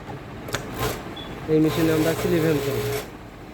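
A Jack W4S flatlock sewing machine runs in a short burst of steady mechanical whirring, loud and close, with someone talking over it before and during the run.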